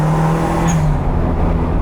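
A stock 1000 Mini fitted with a bolt-on turbo kit drives past close by, its engine a loud, steady drone that swells briefly and then eases off, with no one talking.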